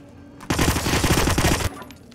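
A loud, rapid burst of automatic gunfire during a video game shootout, lasting just over a second and heard alone with no talk.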